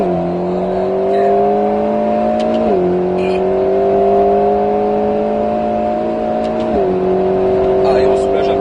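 An Alpine A110 S sports car engine drones steadily at high revs accelerating on the Grand Sambuc circuit, pitch dipping briefly at two gear shifts before climbing again, loud and close.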